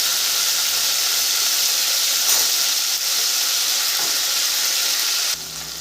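Grated tomato and ginger paste sizzle steadily and loudly in a hot pan, a continuous dense frying hiss with faint stirring, alone without talk until the sound drops off near the end.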